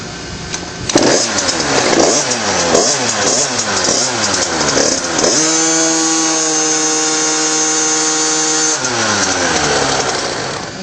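A KTM 50 motorcycle engine with a racing clutch revs hard and loud, climbs to a sustained high whine, holds, then drops back to idle.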